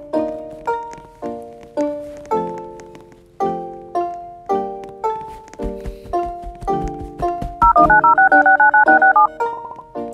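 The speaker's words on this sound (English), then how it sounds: "find the emergency phone so we can call for help" Phone keypad tones dialing an emergency phone inside a Roblox airplane game, a steady run of short beeps of shifting pitch, then a longer warbling tone near the end, loud and with no talk.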